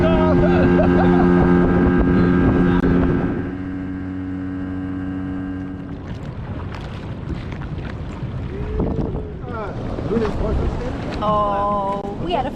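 A boat engine drones with a strong steady hum, then eases off, leaving wind noise and people talking over the lower engine rumble.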